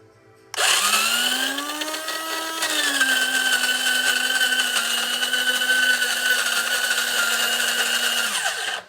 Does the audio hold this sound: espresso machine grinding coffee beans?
yes